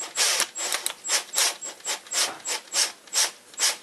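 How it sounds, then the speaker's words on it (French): A screw being turned out of the pedal sensor on a homemade electric bike, a series of about ten short rhythmic scraping, ratcheting strokes, close and fairly crisp, with no talking. "il faut juste dévisser la vis."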